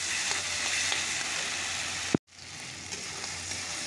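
Masala spices being cooked down in a pan give a steady broadband sizzle that keeps up the whole time, cut off by one short silence partway through, then resumes just as loud.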